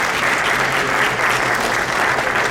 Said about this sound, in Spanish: vamos a recibir con un fuerte aplauso a Octavio Santa Cruz Urquieta.